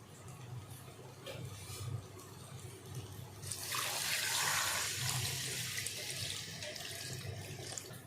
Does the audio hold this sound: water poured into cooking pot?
yes